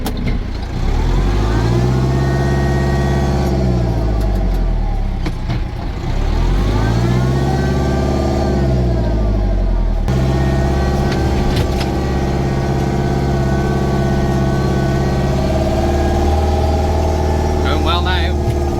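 A Case 895XL tractor engine runs steadily close by, its pitch rising and falling as the gears shift and revs change, with one sharp change in tone partway through.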